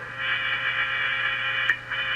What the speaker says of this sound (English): this is what you'll sound like when you talk on an old radio that's not in tune on sideband